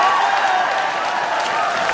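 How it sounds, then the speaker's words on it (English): Dense, continuous applause from a crowd at a Labour political rally, a steady roar of clapping with faint whoops mixed in. "Now that's real applause."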